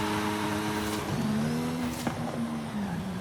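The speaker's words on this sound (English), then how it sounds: "On this game, when you actually swap out the parts and do the car up, the sound of the engine actually does change" An upgraded AMG car in Forza Horizon 5 drones with a steady engine note that climbs in pitch as it revs, with a brief rasp of gear change partway through, heard alone without talk.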